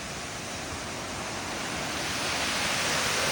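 Carter Falls or Madcap Falls on the Wonderland Trail at Mount Rainier National Park roaring in a steady broadband rush, loud and continuous, growing slightly louder, with no talking.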